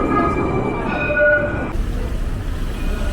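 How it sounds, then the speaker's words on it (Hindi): An Istanbul tram passes along the street with a loud, steady rumble and a brief tonal squeal, heard up close amid city traffic. "ये ट्राम पीछे जा रही है।"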